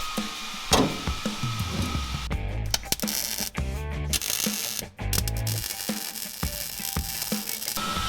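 A hand ratchet drives home the last bolts on a newly drilled shifter in a rat rod wrecker build, with rapid clicking bursts broken by short pauses and clanks of metal, close up and with nobody talking.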